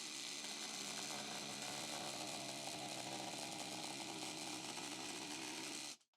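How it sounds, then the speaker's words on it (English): A jigsaw runs a straight cut guided by a jig, its steady buzzing whine holding loud and unbroken for about six seconds before cutting off abruptly at the end. "absolutely perfect line cut with a jigsaw with the help of our little jig"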